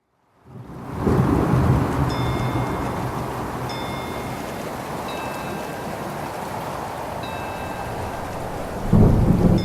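A heavy thunderstorm from a custom game level named Rapture: steady loud rain fills the scene, with thunder rumbling at the start and again near the end, alone with no talking.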